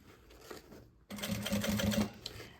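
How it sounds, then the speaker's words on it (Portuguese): A sewing machine with a zipper foot stitches a maternity bag, its quiet rapid whirring and ticking starting abruptly and running steadily for about a second, after soft handling noises. "vou costurar com esse aqui de zíper"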